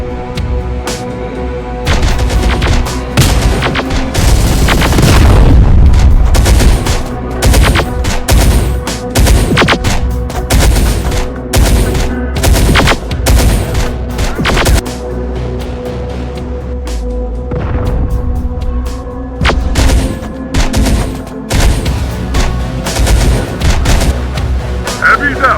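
Ongoing combat in Terminator Dark Fate Defiance, with scattered gunshots, booming artillery-like blasts and loud impacts over a sustained low rumble, and unit voice callouts heard throughout.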